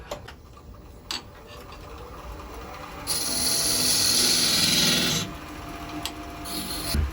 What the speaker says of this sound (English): we'll scrape that out with the French curve scraper